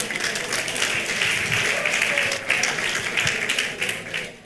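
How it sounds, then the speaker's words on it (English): An audience at a women's community dialogue gathering claps for a participant, a busy, fairly close patter of many hands that swells and thins across several seconds. "Please give her a clap."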